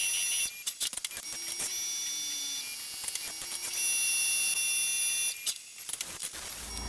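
A CNC machine runs a cutting cycle milling a knife jig, with steady high whines and buzzing tones, short clicks and tool changes, and brief rising pitch sweeps, fairly quiet overall.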